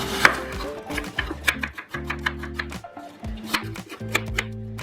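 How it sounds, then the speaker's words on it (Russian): A knife chops peeled, cored apples into medium cubes on a board, a quick series of crisp, close taps with short pauses, over soft background music. "и нарезаю яблоки средними кубиками."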